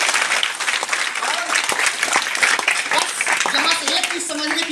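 Loud, dense applause from a large audience at a DXN business meeting, sustained clapping filling the whole stretch with a steady roar of hands and no pause.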